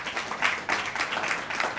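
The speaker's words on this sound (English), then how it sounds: "Let's give them a round of applause." An audience claps at a community State of the Community presentation in Edina, a steady wash of applause that lasts the whole short stretch at moderate loudness, with no voices over it.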